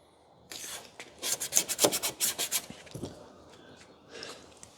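Strips of painter's tape are pulled and pressed onto a Jeep Wrangler JL Rubicon tailgate, a quick series of close, rasping tearing and rubbing bursts, then a few softer, scattered sounds.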